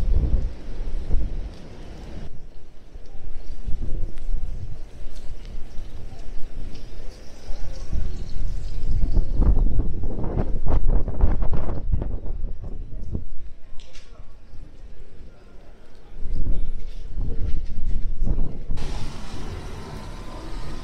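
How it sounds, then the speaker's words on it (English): Strong wind and pouring rain during Storm Barra in Blackpool, heavy gusts buffeting and roaring in waves with rain hissing beneath, loud and close throughout. "It is windy and it keeps pouring down."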